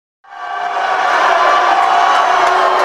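A volleyball crowd in a school gym in Mosinee cheers, a broad wash of voices that swells in quickly from silence and holds loud and steady to the end.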